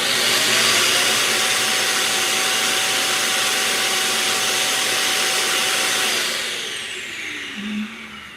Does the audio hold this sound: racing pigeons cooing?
no